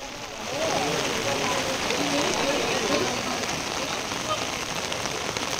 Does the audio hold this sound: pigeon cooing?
no